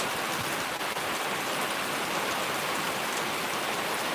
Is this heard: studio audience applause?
no